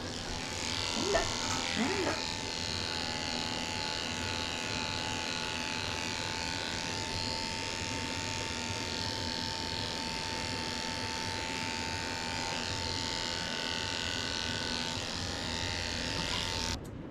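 Electric clippers buzz steadily and close up while shaving the chest of a Maltese puppy during grooming, a continuous motor whine with slight variations as the blade moves through fur, and a voice talks over it briefly near the start.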